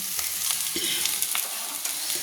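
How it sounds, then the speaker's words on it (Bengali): Bitter gourd and potato frying in a pan as spices are stirred in, a bright crackling sizzle with a few soft spatula scrapes, close and steady over two seconds. "1 চামচ ধনে গুঁড়ো দিয়ে আমি ভালো করে নেড়ে নিলাম"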